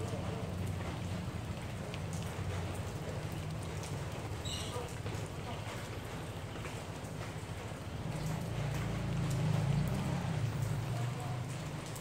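Steady rain falls in a dense, even hiss throughout, with a deeper rumble of water swelling louder near the end.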